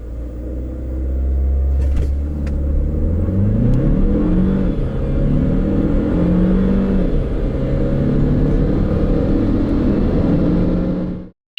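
A Renault Samsung XM3 TCe260 with its 7-speed dual-clutch gearbox pulls away hard from a standstill, engine rising through several upshifts with a loud, close cabin drone and rumble for about ten seconds.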